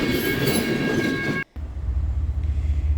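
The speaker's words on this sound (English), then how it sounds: "here's an N-train DPU absolutely hollowing along as they bring their train at a decent speed into the yard" A CSX freight train with a DPU locomotive rolls into a rail yard at a decent speed, a loud, close roar of wheels and cars with a brief cutoff before a lower rumble continues.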